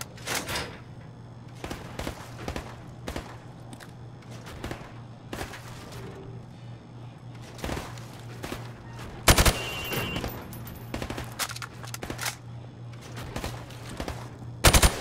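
Rifle fired from the hip in Call of Duty Modern Warfare Remastered, sharp gunshots in scattered single shots and short bursts over a low steady hum, with louder cracks around the middle and the end.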